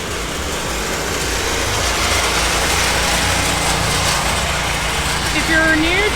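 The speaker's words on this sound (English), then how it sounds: "Got some power washing going on." Steady loud roar of a pressure washer cleaning a sidewalk at an outdoor shopping area by the beach, a continuous broadband hiss with engine rumble underneath, close by and unbroken throughout.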